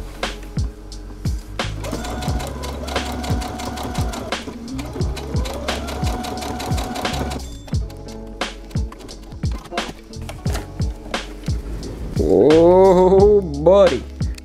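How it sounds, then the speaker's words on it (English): A sewing machine stitches a skull patch into the back neck of a sweatshirt in quick rhythmic bursts of running and stopping, close and fairly loud, ending with a wavering, voice-like whine. "last thing to do is to just sew it into the back of the neck"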